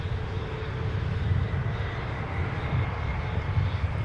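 Airliner taxiing on the taxiway at Minneapolis–St. Paul airport toward its departure runway, a steady broad jet-engine roar heard from a distance, continuous with no breaks.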